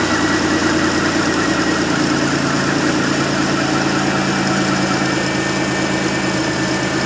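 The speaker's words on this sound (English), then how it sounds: "Both mufflers rotted off it from the sound of it" A Chevy Impala engine with both dual mufflers rotted off idles loudly, a rough throbbing drone with raspy exhaust, steady and close with no voices.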